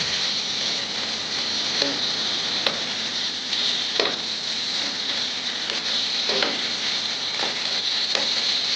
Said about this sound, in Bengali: আমি একটুখানি নাড়িয়ে নেব দেখো নাড়াচাড়া করতে করতে চিনিটা গলে গেছে